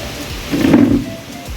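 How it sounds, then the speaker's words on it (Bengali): A brief rumble of thunder swells and fades over a steady hiss of falling rain. "দেখো কিভাবে ঝড় হচ্ছে আর বৃষ্টি পড়ছে এখানে দেখো"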